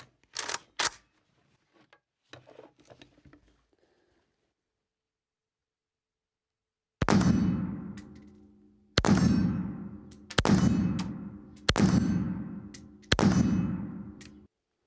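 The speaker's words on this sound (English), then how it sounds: "let's put a few more rounds down range and hit that steel target." Five sharp rifle shots from a Zastava PAP M90 in 5.56, fired at a steel target, ring out in quick succession, each with a loud crack and a ringing decay, after a few softer handling clicks and a stretch of silence.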